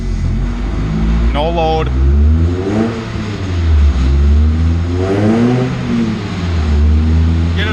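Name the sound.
car engine revving on a chassis dyno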